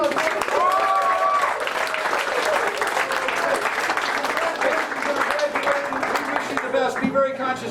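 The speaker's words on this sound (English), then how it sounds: "Let's give him a round of applause." Audience applause at a senior party hypnotist show, dense steady clapping from a crowd that carries on for several seconds, with voices and a few whoops mixed in.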